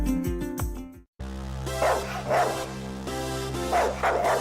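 A pet dog that keeps jumping on its owner barks and yips in a few sharp bursts over a steady musical background, with no talking.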